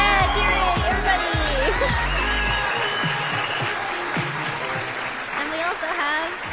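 A crowd cheers and applauds as a sound effect, with dense clapping and whoops. The applause runs strong and then thins out slightly toward the end, while a voice talks over it.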